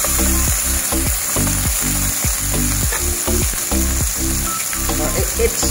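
Garlic and red onion frying in cooking oil in a pan, a loud continuous sizzle with rhythmic stirring scrapes repeating every half second or so, no talking.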